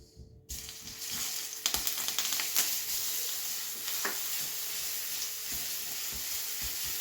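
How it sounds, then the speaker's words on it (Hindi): Steady sizzling of crushed garlic sautéing in hot oil, with occasional crackles and the clink of a stirring utensil, no talking. "इसको थोड़ा सा 1 मिनट के लिए सौटे करेंगे"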